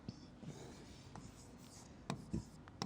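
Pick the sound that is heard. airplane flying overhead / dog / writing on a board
writing on a board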